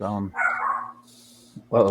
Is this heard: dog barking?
yes